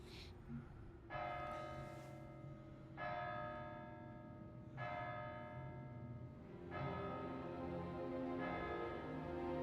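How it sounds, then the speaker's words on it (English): A church bell tolls repeatedly in Kingdom Come Deliverance 2, four rich, ringing strikes about two seconds apart, each one sustaining and overlapping the next over a low ambient hum. "How many times are they gonna toll that bell? They're tolling too fast."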